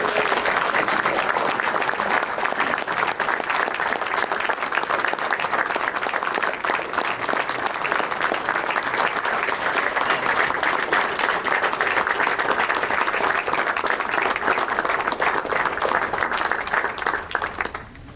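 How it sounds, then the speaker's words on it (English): An audience applauds World War II veterans at a question-and-answer event, with dense, steady clapping from a large crowd sustained close and loud for nearly the whole stretch before tapering at the end. "Can we have a round of applause for these guys?"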